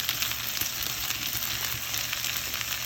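Okra and pigtail frying in hot oil in a pot, giving a steady, soft sizzle and crackle with no speech over it.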